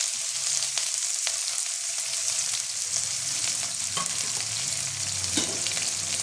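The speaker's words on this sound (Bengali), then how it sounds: "দেখো এবার আমি এর মধ্যে ফোড়ন দেবো" Spice tempering of ginger and green chilli frying in hot oil in a home kitchen gives a steady, close sizzle with occasional pops and stirring clinks, with no talking.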